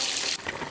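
Ordinary water pours onto a cartoon alien character in a brief, soft splash that spatters for a moment and then trails off into a quieter trickle.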